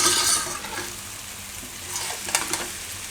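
Potato and eggplant curry stirred in a pan, with a soft steady sizzle and a few scraping strokes of the spoon close by toward the end, and no talking.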